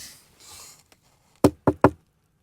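Three sharp, close knocks on the side of a wooden beehive box in winter, struck in quick even succession after a moment of faint rustling.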